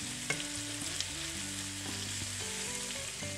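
Vegetables for Roman vignarola sizzle steadily in a hot, uncovered pot, a constant crackling fry with a couple of soft clinks from stirring.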